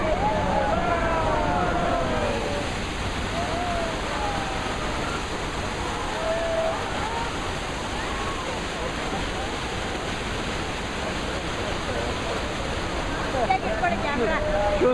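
Broken water main effect on a theme park ride at Universal Studios Los Angeles, water gushing in a loud continuous roaring rush that lasts throughout, with people's voices and squeals faintly mixed in.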